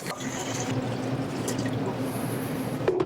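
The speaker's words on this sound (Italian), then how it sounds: "Iniziamo con versare 2 litri d'acqua." Two litres of water are poured for a gluten-free pizza dough, a steady splashing flow that runs unbroken at moderate loudness for a few seconds with no speech.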